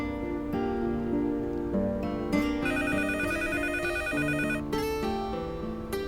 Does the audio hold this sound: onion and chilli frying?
no